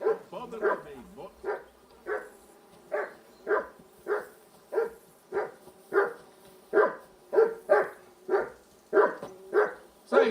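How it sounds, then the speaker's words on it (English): A dog barks repeatedly in Kingdom Come: Deliverance, a steady run of sharp, loud barks at an even rhythm, close by, with no talk over them. "Say something to that dog."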